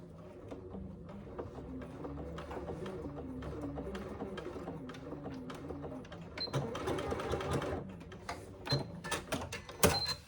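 A sewing machine stitches a Scarlett hobo bag, a steady mechanical whirr running throughout with brief pauses and louder bursts near the end, close and alone.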